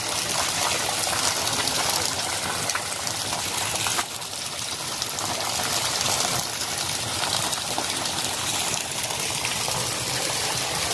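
Water gushes steadily from a spout at a campsite in Ciwidey, Bandung, a loud, continuous broadband rush close by with no break for the full length.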